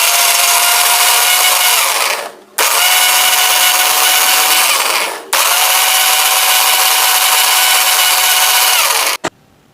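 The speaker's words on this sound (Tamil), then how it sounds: "இதை மூடி போட்டு நல்லா நைஸாக அரைச்சி எடுத்துக்கலாம்." A kitchen mixer grinder blends papaya and sugar into a milkshake in three loud, close bursts of high whirring, each cut off by a brief pause.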